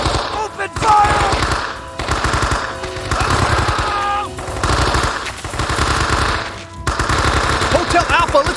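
Heavy automatic machine gun fire in the World War II shooter Men of Valor, loud sustained bursts broken by short pauses, layered with game battle noise and shouted voices.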